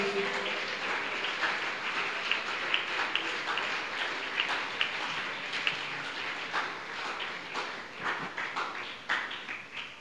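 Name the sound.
applause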